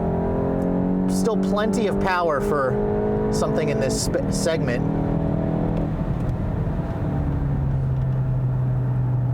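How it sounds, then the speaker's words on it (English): A 2022 Volkswagen GTI front-wheel-drive hot hatch accelerates at full throttle on a track, its engine drone rising steadily inside the cabin beneath a voice talking over it. "Floored here, let's feel that power."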